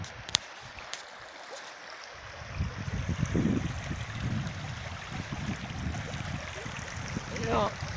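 A river flows steadily nearby outdoors, a constant close rush and trickle of water with a faint voice briefly in the background.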